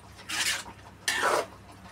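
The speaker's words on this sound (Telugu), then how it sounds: "అలా పచ్చిశనగపప్పు వేసిన తర్వాత గరిటెతో మొత్తం కలపాలన్నమాట" A ladle stirs chana dal in a pan for a brinjal and chana dal curry, making two distinct scraping sweeps with a short pause between them, close and moderately loud.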